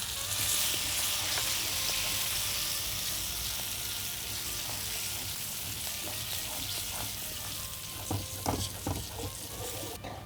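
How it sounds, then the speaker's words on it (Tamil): Spices sizzle steadily in hot oil in a pan while being stirred, a continuous bright frying hiss with scattered scraping and clinking toward the end, close and without talk. "நம்ம கொட்டின கையோடு நல்லா கிளறிடணும்"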